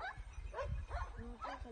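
Dogs that fell down a cliff while chasing a wild deer yelp, whimper and give short barks in quick bursts, fairly close, with rough low rustling underneath.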